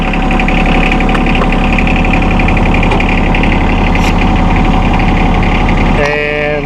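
A diesel engine idles loud and close on a 2016 John Deere 2025R compact tractor, a steady rumbling drone that carries on throughout, with a short mechanical shift near the end.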